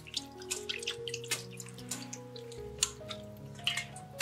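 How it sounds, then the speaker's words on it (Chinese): Fish head and belly being rinsed by hand in a basin of water to wash off slime, giving a close run of small splashes and drips with light sloshing throughout. "将鱼头和鱼腹清洗掉粘液"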